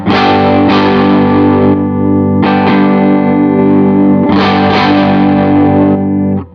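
Distorted electric guitar chords through a Walrus Audio ACS1 amp modeler with boost engaged ring out loud and sustained, struck three times with a thick, heavily processed tone and no talking.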